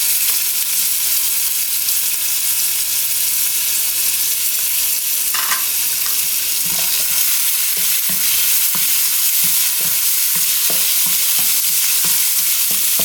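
Crushed ginger and garlic fry in a pan for tomato rice, a loud steady sizzle close up, with stirring scrapes and spatula knocks picking up in the second half, no talking.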